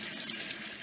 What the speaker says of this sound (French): Au robinet laissé ouvert, des scènes de nettoyage, d'arrosage observées.